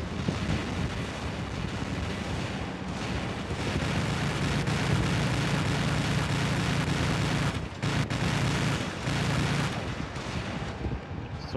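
Heavy robot weapon fire in the War Robots game, a dense, continuous barrage of booming blasts and rumble that stays loud throughout, with a brief dip partway through.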